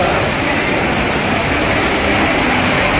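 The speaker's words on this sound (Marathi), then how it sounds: "तर मंडळी ट्रेन आली आहे." A train pulling into Santpada station makes a loud continuous rumble and rush of wheels and carriages close by, with no voices.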